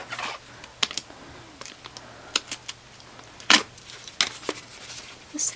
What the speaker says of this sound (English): This tape is so strong.